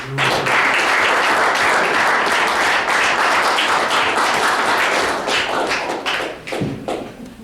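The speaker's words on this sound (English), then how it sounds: "boys, you should give the parents a round of applause for everything they come to do." A hockey banquet audience applauds the parents, dense and loud clapping that holds steady for several seconds before thinning into scattered claps and a few thumps near the end.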